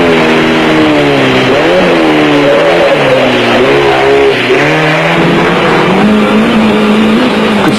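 A Toyota off-road race truck's engine drones loud and steady at the 1992 Caledon Off Road Race in South Africa, its pitch rising and falling as the driver works through the gears, with no talk.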